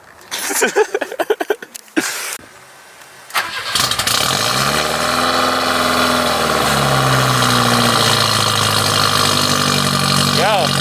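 A stock 1984 BMW E30 with its M10 1.8 liter engine cranks, catches and then settles into a loud, steady idle close by, its low rumble carrying on evenly after a few stuttering starts.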